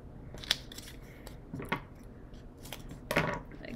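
Scissors cutting paper for a pumpkin pie craft, with a few separate crisp snips and rustling paper between them, close by and moderately loud, without any talking.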